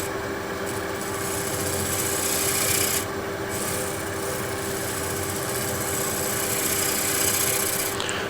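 A spindle gouge cuts a wooden holiday tray spinning on a lathe, making a continuous raspy scraping over the low hum of the motor, with brief brighter bursts of shavings coming off.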